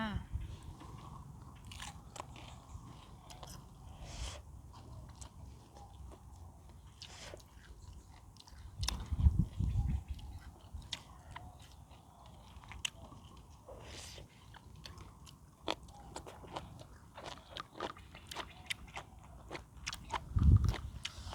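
Someone bites into raw crunchy vegetables eaten with northern Thai chili dip and sticky rice, giving faint, scattered crunches and chewing sounds close to the mouth.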